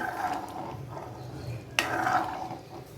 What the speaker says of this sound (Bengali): এখন আমি এর মাঝে সিদ্ধ করা ডালগুলো দিয়ে দিচ্ছি এখন এগুলোকে ভালোভাবে মিক্স করে নিচ্ছি মাছ আর ডাল